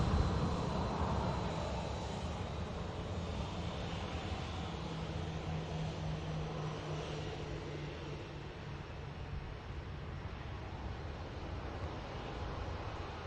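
A Saudi airliner taxis at Manchester Airport, its jet engines giving a steady, broad roar from some distance that holds constant throughout with no voices.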